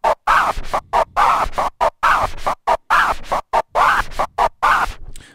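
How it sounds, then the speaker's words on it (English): Rapid rhythmic turntable scratching, a forward-backward baby scratch with the record pushed back and forth in short repeated strokes and crisp gaps between them, loud and up close. "we play actually a baby scratch, or in this case a forward-backward scratch"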